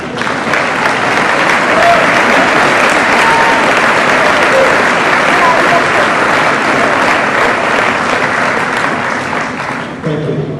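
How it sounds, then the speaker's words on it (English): A large audience applauds at a college convocation, loud dense sustained clapping that fills the room steadily for about ten seconds before tapering slightly at the end. "Will you acknowledge and applaud each other at this moment?"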